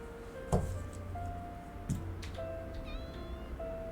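A cat meows in the video game Copycat. Several short, clear meows rise over a quiet background that carries faint ticking and a few sustained electronic tones.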